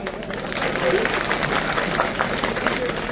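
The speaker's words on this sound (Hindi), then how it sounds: "अभी भी बड़े संकोच से ताली बजा रहे हो भाई" Crowd at an outdoor political rally in Sabalgarh, many women among them, clapping in a dense, continuous patter of moderate loudness, with murmuring voices mixed in underneath.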